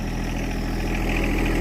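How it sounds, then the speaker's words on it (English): A ranch tractor fitted with forks idles steadily and close, its low, rumbling engine droning with no change in pace and no voices heard. "tractor with the forks"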